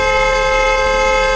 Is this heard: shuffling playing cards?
no